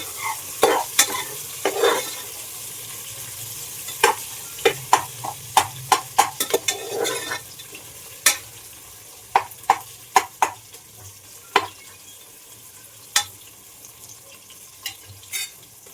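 Onions frying in oil for a pulao, a steady soft sizzle broken by sharp scraping clicks of a spoon stirring against the pan, close and clear with no talking.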